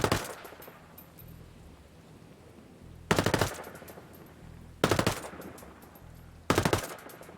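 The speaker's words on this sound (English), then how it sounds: "let's do a little test with the Flash Hider." An SMG fitted with a flash hider fires in Ghost Recon Breakpoint: four short, loud bursts of rapid gunfire, evenly spaced with quiet gaps between them and no talking.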